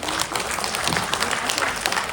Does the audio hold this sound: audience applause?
yes